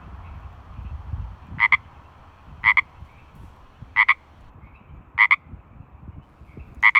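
Spring peepers calling at night in a garden: five evenly spaced bursts of shrill, paired peeps ring out clearly over a low, steady background chorus.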